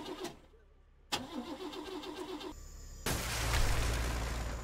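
A hijacked red tank's engine cranks and starts in a Henry Stickmin game, with a sharp jolt followed by a rising, steady engine roar that stays loud to the end.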